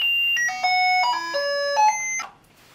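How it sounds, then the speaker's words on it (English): A Sugar Pixel blood sugar display plays an audio alert: a bright electronic chime of several stepped tones in a short descending and rising melody, loud and clear with no talk, ending in quiet. "Here you can choose when you want alerts to sound."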